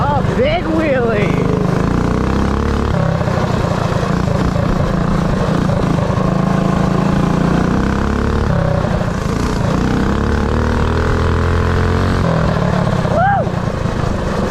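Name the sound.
mini pit bike engine during a wheelie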